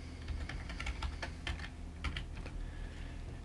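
Username and password being typed on a computer keyboard: a quick run of close, crisp key taps in uneven rhythm, fading into quiet near the end, with no voices.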